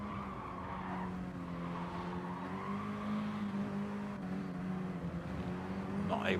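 Tires on a Mini Cooper Cup race car squeal through a long right-hand corner at Willow Springs, a sustained engine drone with a steady tire whine building over several seconds while a commentator talks over it.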